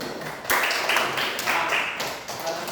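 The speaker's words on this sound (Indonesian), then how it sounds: "Tepuk tangan dulu buat Atung." A class of children claps for a classmate in a school coding lesson, a few rhythmic bursts of close, sharp hand claps in short rounds.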